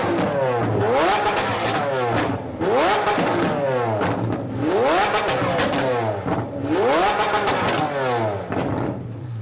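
Liberty Walk Lamborghini Aventador revving repeatedly with exhaust flames: four loud rising rev blips with crackling pops as each falls off, close, alone and rhythmic.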